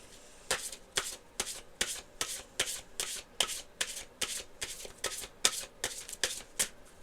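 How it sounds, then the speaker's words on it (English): Tarot cards are shuffled close up in a steady run of about thirteen crisp riffles, each a short papery burst with a brief pause between them. No one speaks. "Last shuffle."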